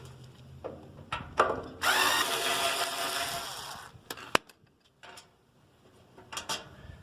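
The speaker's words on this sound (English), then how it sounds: "Now there's going to be two screws right up here. So I'm going to just take those two screws out." Screws being backed out of a Kenmore washer lid with a power driver, a two-second whirring burst amid scattered clicks and knocks, one sharp tap, all close and fairly quiet with no talking.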